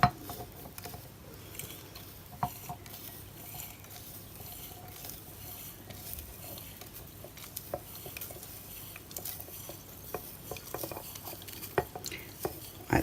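Lye is stirred into water for soap making in a container, giving quiet scraping and swirling with faint irregular clinks of a utensil against the side, fairly close and without talk.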